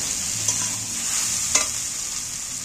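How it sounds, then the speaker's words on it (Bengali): Fried spine gourd and potatoes are stirred through spices in a hot pan: a steady sizzle with two quick scraping strokes of the spoon, close up and with no talking. "দেখো নেড়ে চেড়ে একসাথে মিক্স করে নিয়েছি।"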